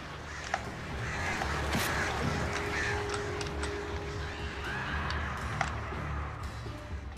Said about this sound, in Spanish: No, más pájaros, no, odio los pájaros.